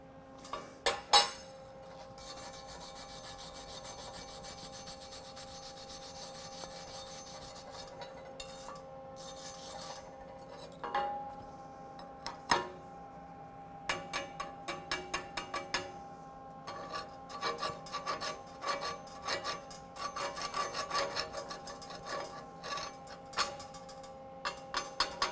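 Slag being tapped and chipped out of a 2G weld on half-inch steel plate with a backing strip, a series of sharp, close metallic ticks and scraping raps, sparse at first, then clustering into quicker bursts over a faint hum.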